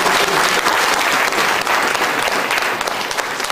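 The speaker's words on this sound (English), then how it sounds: "Could we give P.L.O a clap" Audience at an international university symposium in Kenya applauds a prominent Kenyan guest speaker, a dense, steady wash of many hands clapping that stays loud and even throughout.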